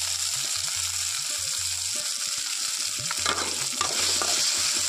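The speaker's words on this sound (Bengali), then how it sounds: "এখন টমেটোটা খুব ভালোভাবে এখানে ভেজে নেব" Tomatoes fry in a hot pan with a loud, constant sizzle while a utensil stirs and scrapes in repeated strokes close by.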